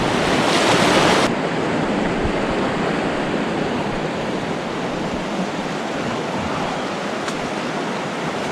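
Fast-flowing river water rushes in a loud, continuous broadband roar, close by and unbroken, with a brief extra gust of wind-like hiss near the start.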